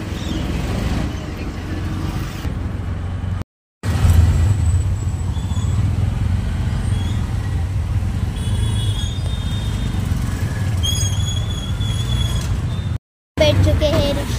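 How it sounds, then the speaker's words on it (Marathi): Riding inside an auto rickshaw through city traffic, with a loud, steady engine rumble and road noise throughout, faint squeaks and distant horns, and two brief dropouts. "चला, बसलेलो आहोत रिक्षामध्ये."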